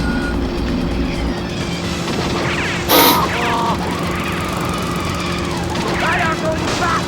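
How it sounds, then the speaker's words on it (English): In the Cartoon Network Racing video game, glass shatters in one short, sharp crash partway through, set against a continuous engine drone and game music. "Break that glass."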